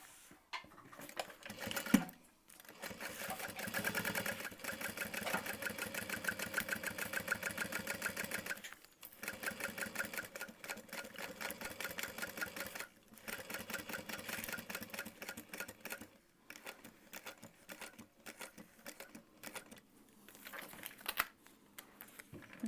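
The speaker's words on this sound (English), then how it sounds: "now we'll top stitch that" A sewing machine runs top stitching through recycled nylon backpack fabric in quick bursts of rapid mechanical needle clatter, pausing briefly between runs, close and moderately loud.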